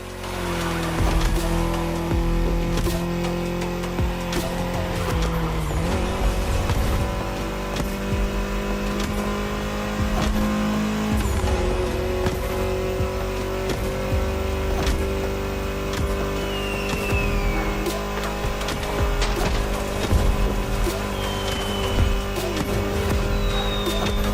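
A Mini Cooper races in The Crew Motorfest, its steady, loud engine drone running continuously with pitch shifts around gear changes, joined by faint tire and road noise.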